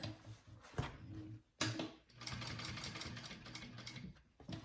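A sewing machine stitches down a bag handle, running in bursts with short pauses, close and fairly loud, with faint mechanical clicks between runs.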